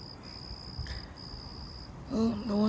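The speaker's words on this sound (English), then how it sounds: "Do you guys hear the crickets right now?" Steady high cricket chirring at night during a wind and lightning storm, a continuous shrill tone that breaks off briefly, with gusty wind noise beneath and a voice entering near the end.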